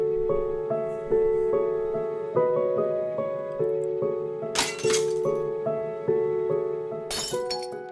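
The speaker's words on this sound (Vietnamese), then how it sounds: "Tiếng bát rơi vỡ" A ceramic bowl falls and shatters, two sharp bursts of breaking with scattering shards cutting through a gentle, repeating music-box melody that plays throughout.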